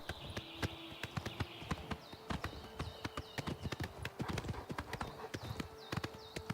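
Rapid clip-clop of a black horse's hooves galloping in Oblivion Remastered, a steady fast rhythm of sharp, close hoof strikes with a brief whinny-like tone and faint wind underneath.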